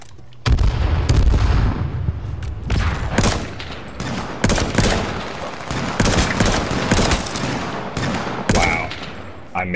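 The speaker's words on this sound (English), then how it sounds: "I missed him every single time I shot" Rapid gunfire in the video game H1Z1, dense bursts of shots and booming reports in quick succession, loud and close with brief pauses between volleys.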